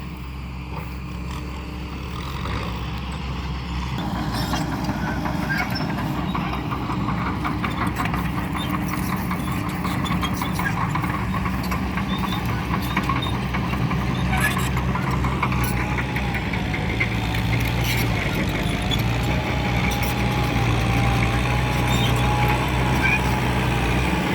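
A Kubota M6240 tractor engine works soil on a field, a steady mid-pitched diesel drone and rumble that holds loud and continuous throughout, with a faint higher tone rising near the end.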